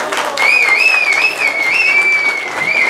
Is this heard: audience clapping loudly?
yes